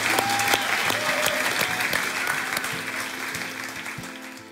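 A church congregation applauds the Lord together, steady dense clapping that fills the room and slowly tapers, with sustained keyboard chords playing underneath.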